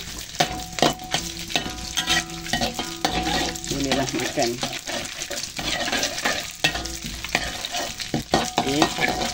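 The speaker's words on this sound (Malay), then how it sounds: "Jadi kita goreng nasi ni." Rice for nasi goreng stirred and scraped in a pan over steady sizzling frying, with utensil clatter throughout and a brief spoken remark.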